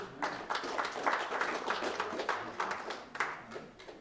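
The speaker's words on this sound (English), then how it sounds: "Give him a good round of applause there." An audience at an outdoor summer healing celebration at Bears Ears gives a round of applause, a moderate, slightly distant patter of many hands clapping steadily for several seconds.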